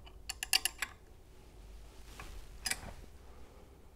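A wrench ratchets in two short bursts of quick metallic clicks as a bolt on a machine foot is tightened during shaft alignment, with a quiet pause between and no talk.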